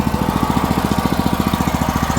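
A Weima WM900M-3 walk-behind tractor engine runs steadily nearby, a loud, rapid, evenly pulsing single-cylinder chug without any voices.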